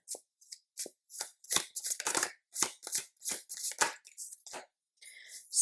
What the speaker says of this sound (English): I'm gonna reshuffle this card.